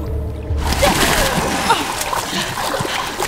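Water splashing and sloshing in The Quarry video game, a broad burst starting after a brief quiet moment and continuing as steady churning, with voices faintly mixed in.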